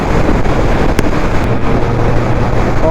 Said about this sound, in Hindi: हायाबुसा को हल्का सा लीन करूँ, बिल्कुल स्टेबिलिटी के साथ में ये बाइक मेरी लीन हो रही है